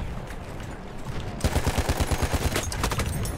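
Gunfire in Battlefield 1: a muffled, distant rattle at first, then a close, fast automatic burst of evenly spaced shots that keeps going to the end, loud and alone.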